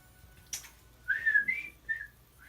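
A person attempting to whistle, producing a few breathy, wavering whistle tones after a short puff of air, fairly close and unaccompanied.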